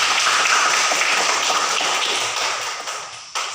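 Classroom applause for a student group after a presentation: a dense, steady patter of many hands clapping close by for about three seconds, thinning out toward the end with no talking over it.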